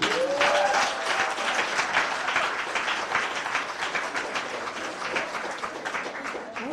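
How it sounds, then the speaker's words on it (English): A poetry slam audience applauds after a poem, with continuous moderately loud clapping and a faint whistle near the start. "Applaud the poet and not the score."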